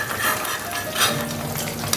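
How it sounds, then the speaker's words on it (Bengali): Fish fries in a pan with a dense, close sizzle and crackle, broken by brief stirring scrapes and light utensil clinks. "মশলাটা করতে করতে মাছটা হয়ে গেছে ভাজা আমার।"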